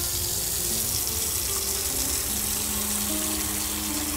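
A water tap runs steadily into a basin in the Autopsy Simulator game, a constant close splashing hiss with no talking over it.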